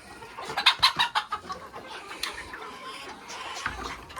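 Sebright bantam hens and a rooster cluck in a pen, a quick burst of close, loud clucks early on followed by softer scattered calls and rustling.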